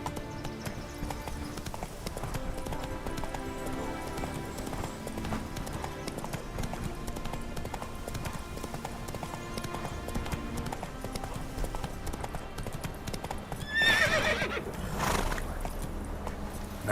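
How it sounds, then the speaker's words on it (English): Horse hooves clip-clop steadily through a Witcher 3 video game scene, with a short neigh near the end over continuous game music and ambience. "Run, Roach"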